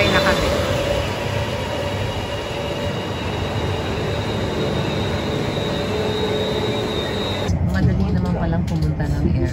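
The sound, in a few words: airport rail link train to Suvarnabhumi Airport, riding inside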